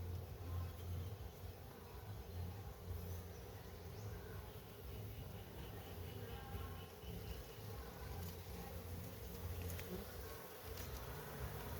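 A honey bee colony inside a fallen kitul palm log in a tea estate drones with a continuous, dense buzzing hum, close and steady throughout, with faint low background rumble.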